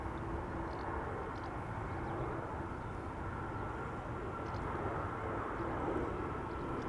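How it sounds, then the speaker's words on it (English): A China Airlines Airbus A350 bound for Taipei rolls on Schiphol's Polderbaan, a faint, steady distant jet rumble with broad low roar and no voices. "Chinese A350 to Taipei"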